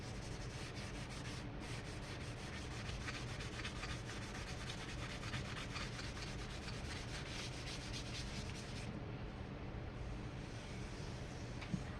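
Light hand sanding scuffs the polyurethane finish on a Tele-style guitar body, a faint, continuous rubbing rasp of even strokes that goes on alone throughout.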